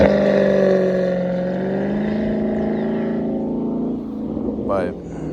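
A Dodge Charger revs and drives past close by outdoors, its engine tone sweeping downward and fading as it goes, with a brief higher sound near the end.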